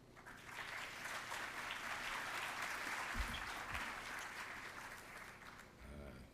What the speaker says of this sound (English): That applause didn't sound like you meant it.